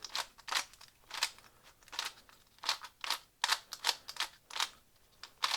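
A speed cube puzzle turned in quick, uneven bursts gives sharp, slightly crunchy plastic clicks and clacks, close and dry, with no voices.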